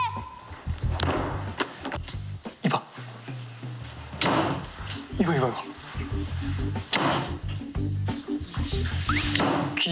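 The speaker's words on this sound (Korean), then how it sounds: "문 닫는 소리였어요." A door inside a home is slammed shut several times, each slam a heavy, close thud in a series of bangs while people talk over them.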